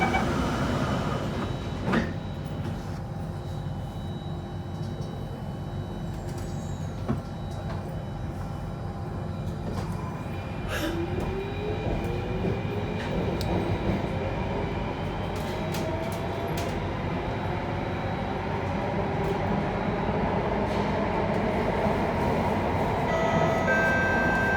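An SMRT Alstom C8 train runs on Singapore's Circle Line extension between Paya Lebar and Stadium, heard from inside as a continuous rolling rumble with rising motor whine and occasional rattles and clunks.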